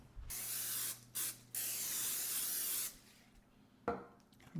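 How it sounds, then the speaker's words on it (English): Cooking spray hisses into a 9 by 9 inch baking pan in several close bursts, a short one, a brief pause, then a longer sustained spray, followed by a quick clatter. "I'm just going to spray mine with cooking spray."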